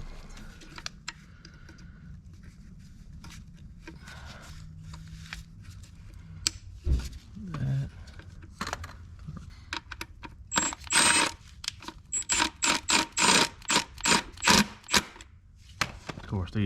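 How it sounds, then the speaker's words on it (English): An electric ratchet runs injector bolts into a 2018 Honda Accord 1.5 turbo engine, giving a burst of short, rhythmic mechanical clatter late in the clip after quieter handling noises and some talk. "I'm gonna start them with an electric ratchet."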